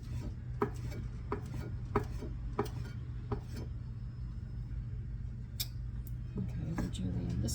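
Knife chopping vegetables into julienne strips for a black olive, herb and tomato vinaigrette, a steady run of sharp board taps under constant low background hum, with a faster flurry near the end.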